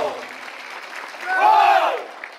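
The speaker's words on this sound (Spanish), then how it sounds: "Más fuerte los aplausos para el esfuerzo de nuestros caballeros y señoritas alumnas." Audience applause and cheering at a 50th anniversary ceremony of Instituto Adolfo V Hall del Norte, honouring the cadets' drill squad, with steady clapping that swells louder midway alongside tonal voices or whistles.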